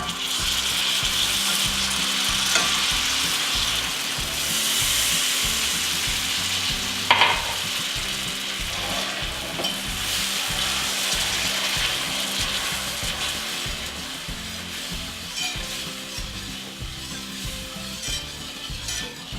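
Brown sugar and milk or half and half are stirred into a peanut butter fudge mixture in a hot pan, making continuous scraping and bubbling sizzle that runs steadily without talk.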